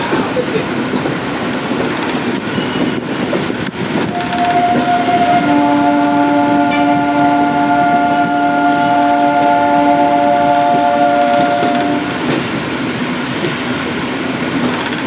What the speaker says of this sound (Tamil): நாகப்பட்டினம் ரயில்வே ஸ்டேஷன் ஜங்ஷனுக்குள்ளே வந்தாச்சு